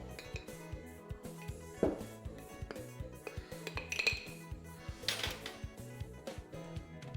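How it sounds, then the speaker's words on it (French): Dishes washed quickly by hand: frequent close clinks and knocks of cutlery, plates and glassware over a low, steady background hum, with no talking. "Petit coup de vaisselle en vite fait."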